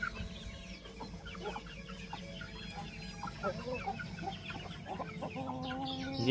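Several chickens cluck and chatter softly at a distance, a busy scatter of short calls over a low background hum.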